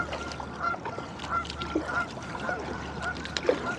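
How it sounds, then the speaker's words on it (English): Canada geese honk repeatedly at a steady rhythm, moderately near, over a low background rumble, on an urban waterway in New York City. "Couple Canada geese in front of us."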